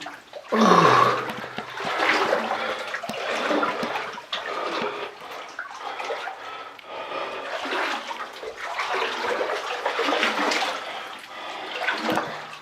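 Feet slosh and splash through freezing water inside a flooded abandoned mine, a continuous churning of close, uneven wading strokes that rise and fall for several seconds with no voice.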